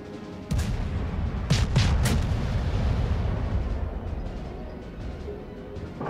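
Deep booming naval cannon blasts from the cruiser Omaha in World of Warships, a few heavy shots close together over a steady low rumble, with no talking.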